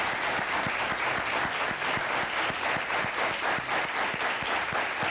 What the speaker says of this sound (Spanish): Voy a darles un aplauso.